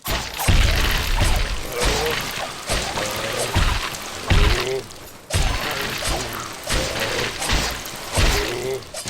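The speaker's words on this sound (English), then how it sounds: "the best part of the audio are some of the combat sound effects, really kind of quirky, silly, satisfying and amusing" Quirky, satisfying combat effects from the 2D action game Salt and Sanctuary: repeated heavy whacks, thuds and crashing impacts in a steady run of blows, loud and close throughout, with some game sound beneath.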